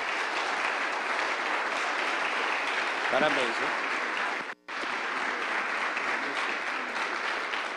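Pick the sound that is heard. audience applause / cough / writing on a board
audience applause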